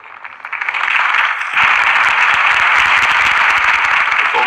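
Dense crowd applause in a Batman video game, following a campaign speech for Harvey Dent; steady loud clapping fills the scene, swelling from a quieter start into a full, sustained ovation.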